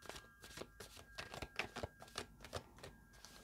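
Tarot cards being shuffled by hand in a quick run of soft, papery riffling flicks and taps, close and fairly quiet.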